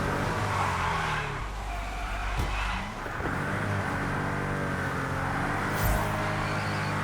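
A car in the racing game Test Drive Unlimited Solar Crown spins through a full 360, its tires squealing loudly and continuously over a steady engine drone, with a brief dip in the middle and no talking.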